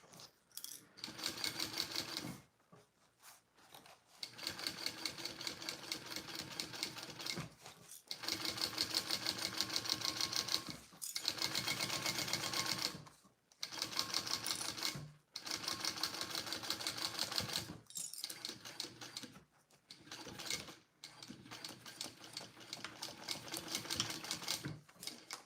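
A sewing machine stitches a mini backpack in repeated bursts of rapid clattering, each run lasting a few seconds and separated by short pauses, close and clear with no talking.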